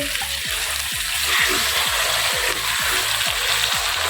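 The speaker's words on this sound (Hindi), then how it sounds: "और 1 से 2 मिनट हम इसको ऐसे ही भूनेंगे ऑयल में।" Half a kilo of chicken and two tomatoes fry in oil in a pan with a steady loud sizzle, broken by repeated scraping stirs of a spoon against the pan.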